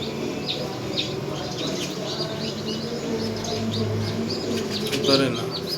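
Newly hatched chicks peep in soft, quick bursts of high chirps, close by and fairly faint, repeating through the moment under a low background murmur.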